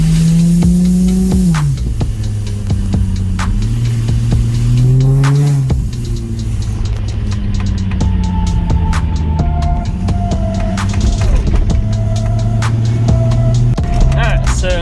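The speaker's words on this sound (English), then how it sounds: "So now we're out on a test drive." A boosted, piggyback-tuned Nissan 350Z drones loudly from inside the cabin on a test drive, its engine note rising and dropping with shifts and throttle changes, then settling into a steady cruising hum.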